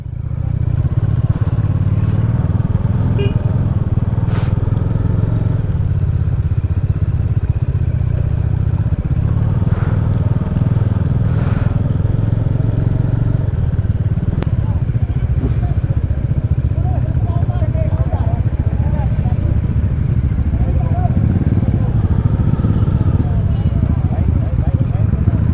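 Motorcycle engine straining on snow on a winter road to Spiti Valley, a loud continuous low drone with clattering, heard close and under excited talk throughout.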